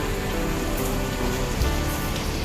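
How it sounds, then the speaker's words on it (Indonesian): Light rain falls steadily around a waiting Mercedes-Benz OF1623 bus, an even, dense patter of drops close by with no breaks and no voices. "Disambut dengan rintikan air hujan."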